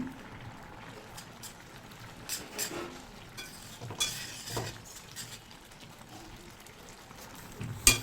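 Moringa leaves and mung dal being stirred in a pan make faint, soft scraping and occasional light clinks of a utensil against the pan, quiet and intermittent against low background hiss.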